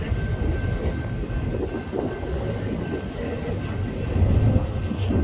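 A BNSF freight train of empty piggyback cars rolls past at a steady pace, its wheels rumbling and clattering continuously, with a faint squeal and a louder swell near the end.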